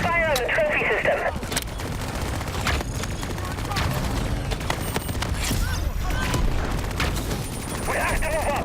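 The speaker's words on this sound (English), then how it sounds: "We're taking heavy fire." Sustained heavy gunfire and booming blasts from a combat scene in a PlayStation game demo, with dense continuous shooting throughout and voices speaking over the battle.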